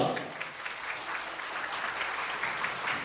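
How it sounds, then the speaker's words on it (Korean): Wedding guests at a Korean wedding ceremony in a hall applaud the parents of both families, a steady wash of clapping from a crowded room filling the whole stretch at moderate level. "양가 어님들께 다시 한번 큰 박수 부탁드립니다"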